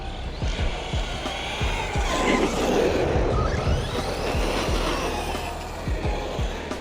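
Arrma Kraton 6S V5 RC car drifting under light braking, a rough motor whine with gritty tire scrubbing and repeated short clicks, moderately close and continuous.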